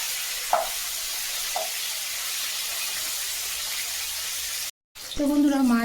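Fish pieces sizzle in a hot pan after being turned over, a steady loud hiss with a couple of faint knocks. The frying cuts out briefly, then a voice speaks at the end.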